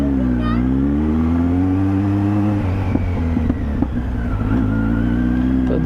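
A Kawasaki Z900 motorcycle engine revving up and settling back to a deep idle rumble nearby, with a few clicks and bumps and a voice heard briefly over the engine.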